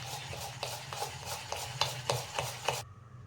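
Dhokla batter stirred with baking soda and water in a bowl, a steady run of rhythmic scraping strokes close by, about ten regular swipes before stopping abruptly.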